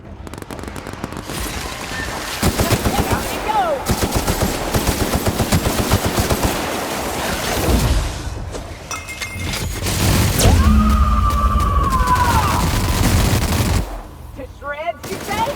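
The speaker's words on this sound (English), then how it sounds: "But now let's get to shooting." Sustained automatic gunfire in The Outer Worlds video game, rapid loud bursts with heavy blasts and crashes layered over game sound effects, running almost continuously with a short lull midway.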